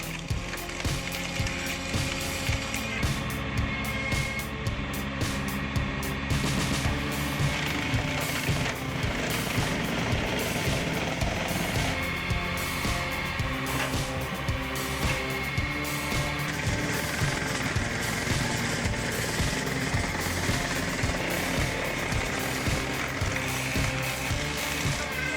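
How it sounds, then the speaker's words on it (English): An automatic firewood processor cutting and splitting logs, with a dense, continuous mechanical roar of engine and hydraulics and repeated rapid knocks and cracks of wood throughout. "This isn't just a log splitter, it's a complete firewood processing system."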